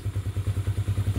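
Engine of a Hyosung GT250 Comet motorcycle idling close by, with a steady, evenly spaced low thumping pulse and no talk over it.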